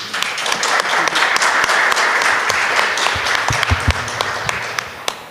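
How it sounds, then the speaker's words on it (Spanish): An audience at an academic literature-history panel breaks into steady, dense applause to welcome a speaker, with sharper individual claps standing out near the end and no talking over it. "recibamos con un voto de aplauso."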